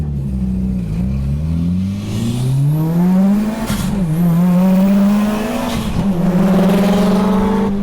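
A loud Mitsubishi Evo 9 engine with anti-lag and a Tomei titanium exhaust revs hard with rising and falling harmonic sweeps, sharp crackling pops from the exhaust breaking through between pulls.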